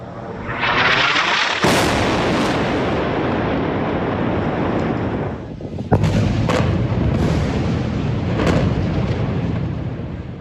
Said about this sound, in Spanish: Escuchamos uno de esos proyectiles, concretamente uno de los primeros que el ejército israelí lanzó el sábado 7 de octubre en el centro de Gaza.